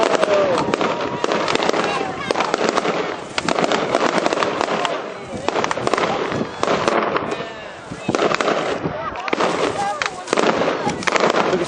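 Fireworks and rockets bursting over Lands End, Cornwall, in 2012, a dense continuous barrage of crackling pops and booms filling the whole stretch, loud and close, with people talking faintly underneath.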